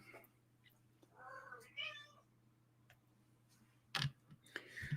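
A house cat gives a couple of short meows partway through, fairly faint, with a sharp click or tap and light background noise later on.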